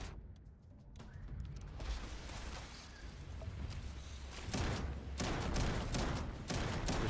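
Rapid shotgun blasts in the sci-fi video game Starfield, a dense run of booming shots growing louder and more continuous toward the end, with no talk over them.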